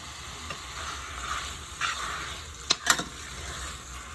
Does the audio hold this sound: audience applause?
no